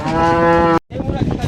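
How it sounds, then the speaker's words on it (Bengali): A cow at a busy cattle market in Hazratpur lets out one loud, close, drawn-out moo with clear harmonic tone, then stops abruptly and market crowd noise follows. "কষাইয়ের গরু।"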